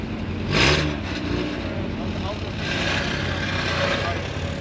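A track-prepped race car engine idling and lightly revving in a track pit area during a ChampCar test day, a steady low rumble with a brief rev swell, nearby and moderately loud.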